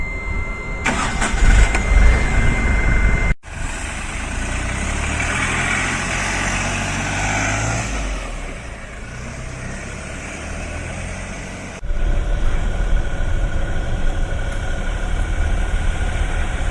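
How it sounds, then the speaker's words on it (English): An Ashok Leyland Bada Dost light truck's diesel engine cranks and fires up close by, then runs and pulls away as it drives, with a steady rumbling drone and a gear-change pause partway through. "I'm driving the Ashok Leyland Bada Dost"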